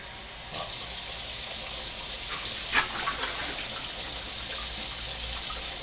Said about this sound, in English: we are going to add 3 quarts of hot water to the canner